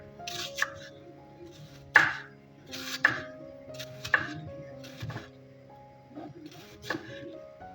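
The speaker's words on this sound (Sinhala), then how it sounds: "ලුණු ටික චූටියට කපා ගන්න" An onion being finely chopped with a knife on a board: a handful of separate crisp cuts and taps at an uneven pace, close by, with quiet kitchen clatter between them.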